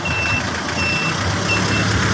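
A truck backing up sounds steady high reversing beeps over a loud engine rumble, close by and continuous, with no voices.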